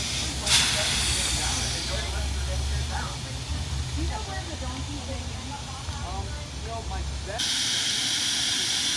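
Steam hisses loudly from a coal-fired steam locomotive, a sharp burst at first and then a steady rushing jet, with a low engine rumble and people talking nearby.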